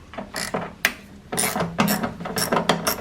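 A ratchet clicks in quick bursts while backing out 8mm wiper motor bolts on a Foxbody Mustang, close-up and crisp, the rhythm pausing and restarting, with no talk.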